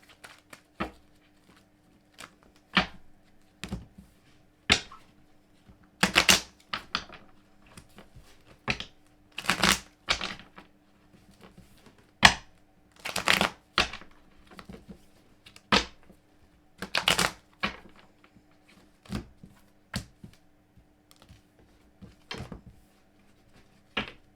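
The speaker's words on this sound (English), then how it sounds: "I reckon I've done enough shuffling now" Irregular crisp riffling and slapping of cards being shuffled, sharp clicks scattered over a quiet background with a low steady hum.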